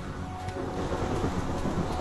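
A rolling rumble of thunder from a lightning strike in the Minecraft video game, a broad low roar that swells slightly and holds steady without a sharp crack.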